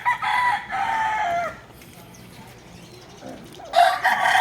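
Two roosters crow nearby: a long crow at the start, a quieter stretch with faint background noise, then another loud crow near the end.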